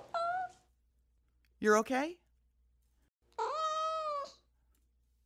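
A cat meows three times in separate calls, close and clear, with a short voice speaking between the second and third.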